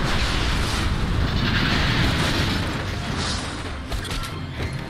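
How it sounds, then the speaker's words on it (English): A big explosion in the video game Just Cause 2 roars as a loud, dense, sustained blast with rumbling low end and crackling debris throughout, easing only slightly toward the end, with no speech. "Carl Blaine just sitting in the fucking explosion"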